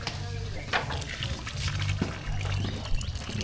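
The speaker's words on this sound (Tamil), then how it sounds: "சாம்பாருக்கு கடைசியாக கடைசி வச்ச புளி தண்ணி சேர்த்துக்கலாம்" Tamarind water pours into a pot of simmering sambar, a soft continuous trickle and splash close by, while voices talk in the background of a busy kitchen.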